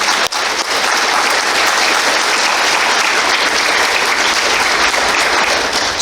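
A panel audience at a youth vaping summit in Little Rock bursts into loud, sustained applause, dense clapping that fills the room steadily for the whole stretch without a voice over it.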